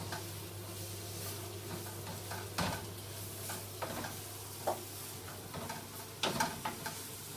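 Garlic and ginger fry in a pan for a salt fish stew, giving a soft, steady sizzle with a few brief clinks and stirring scrapes; no one talks.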